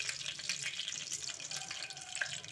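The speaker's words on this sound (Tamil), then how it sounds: "கடுகு உளுந்தம் பருப்பு போட்டு தாளிச்சிடலாம்" Mustard seeds and urad dal sizzle and crackle as they temper in hot oil in a pressure cooker, a soft, continuous hiss with scattered tiny pops.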